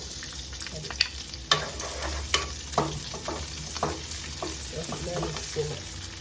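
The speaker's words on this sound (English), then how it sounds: "Add oil to the pan, and we put the onions." Onions frying in oil in a pan, a steady close sizzle with several sharp clanks of a utensil against the pan scattered throughout, no talking.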